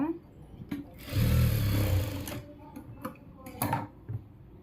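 A sewing machine stitches a line on fabric in a short, near burst of roughly a second, with faint clicks and handling noises around it.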